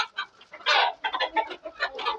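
Hens hiding in cages cluck in a busy, overlapping run of short calls, close and fairly loud, with no speech.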